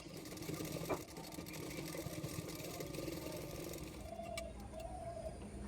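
Sewing machine stitching a folded blouse edge to attach a hook strip: a faint, steady mechanical whir with rapid ticking needle rhythm running continuously, recorded quietly and close with no talking.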